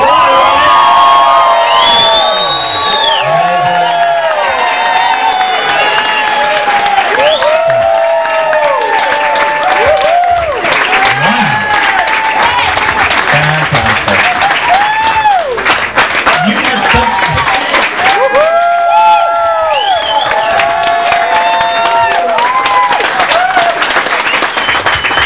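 Loud, sustained applause and cheering from a live audience welcoming Melanie C at the RVT, with whoops and shouts throughout, dense and close, continuing for the whole stretch.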